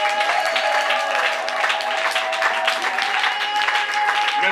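A church congregation at a women's day service applauds to acclaim the Lord. The clapping is steady and sustained, loud and close throughout, with sustained tones in the background.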